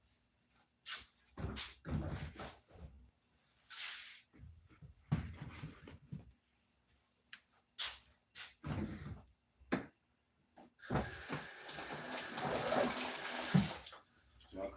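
Tap water splashes over freshly picked garden pickles being rinsed for canning, coming in intermittent bursts of running and splashing, then a longer steady stream toward the end.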